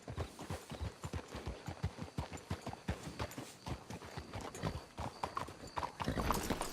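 Horses clip-clopping in Red Dead Redemption 2, a steady run of close hoof strikes in quick, uneven rhythm with a brief louder stretch at the end and no speech.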